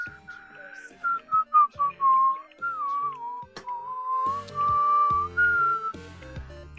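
A person whistles a melody, close and clear, in runs of short notes and longer held notes, with no talking.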